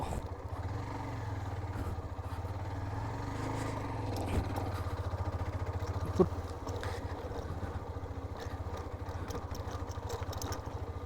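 A motorcycle rides along a rough, badly broken village road, its engine a low, steady drone with faint rattles and a couple of sharper knocks from bumps.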